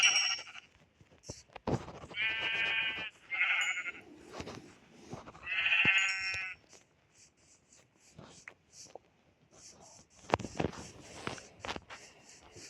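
Sheep bleat repeatedly inside a video game, several long wavering cries spaced across the stretch. Footstep-like taps and other game noises sit between them, and no one speaks.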